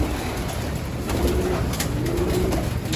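Pigeons coo steadily in a loft, a soft, continuous burbling of several birds close by with no talking.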